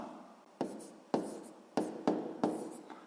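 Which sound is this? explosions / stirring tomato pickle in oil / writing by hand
writing by hand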